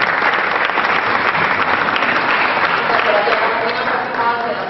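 Audience at a public town meeting on nightlife breaks into sustained, loud applause, a dense wash of clapping that holds steady for several seconds before easing slightly at the end.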